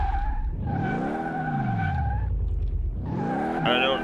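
Tyres screech loudly on a roughly 600-brake-horsepower Katagiri Katsumoto car on skinny tyres in Car Mechanic Simulator 2018, with wailing squeals rising and falling in two long sweeps over the revving engine.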